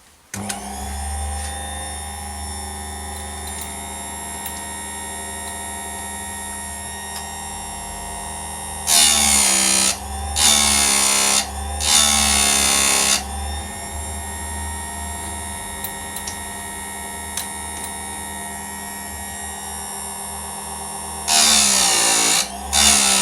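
A chain sharpening machine with a grinding wheel hums steadily, broken by several short, loud bursts of harsh grinding as it dresses the teeth of a chainsaw chain, one tooth after another.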